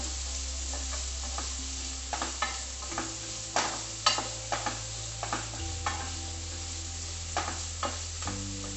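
Onions frying in a hot pan for a spicy Tulu-style chicken dish, with a steady sizzle under repeated scraping stirs of a spoon at an irregular rhythm, close and clear with no talking.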